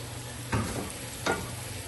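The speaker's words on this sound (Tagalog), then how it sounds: "Instead na prituhin natin yung talong, igisa lang natin para maluto siya." Eggplant sautéing in a pan for kare-kare, a soft, quiet sizzle with two brief scraping stirs, close and faint.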